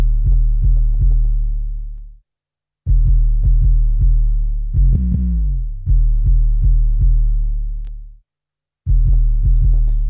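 Default 808 bass beat with no wave shaper applied: loud, deep booming 808 notes in a steady rhythmic pattern with pitch glides, broken by two short silent gaps, no voices.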